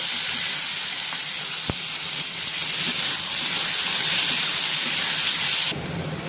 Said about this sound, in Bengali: এবার আমি আলু আর পেঁয়াজ আর কটা কাঁচা লঙ্কা কেটে রেখেছি, ওটা ভেজে নেব।